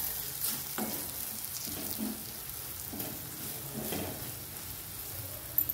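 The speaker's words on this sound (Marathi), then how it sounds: "तेलावर हे मसाले छान परतून घ्यायचे आपल्याला।" Spices with a peas and potato mixture sautéing in hot oil, a close continuous sizzle broken by repeated stirring scrapes, no talk.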